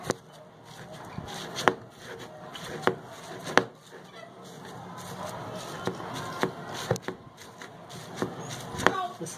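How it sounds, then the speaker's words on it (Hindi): Boiled fish meat being pounded into mince for crispy fish kebabs, a run of sharp, irregular thuds and knocks close by, spaced about every second, with faint kitchen rustle between the strikes. "तो अभी इसको थोड़ा सा हम इसको कूट लेंगे"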